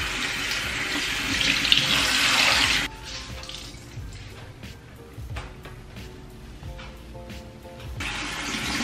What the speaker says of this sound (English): It is wash my face with water.